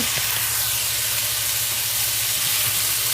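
Mushrooms and onions frying in a pan, a soft continuous sizzle and hiss with a faint low hum beneath and a few small pops.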